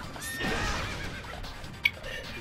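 A horse neighs in the fighting game JoJo's Bizarre Adventure: All-Star Battle R: a rising whinny with some broadband game noise, fairly quiet, and a short sharp click near the end.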